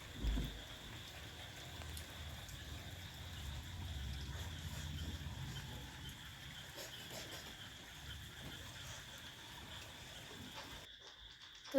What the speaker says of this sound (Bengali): তো তোমাদেরকে শোনালাম যে বৃষ্টিটা কীরকম পড়ছে